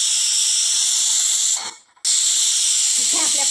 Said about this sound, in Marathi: इथे आपल्या कुकरच्या 2 शिट्ट्या झालेल्या आहेत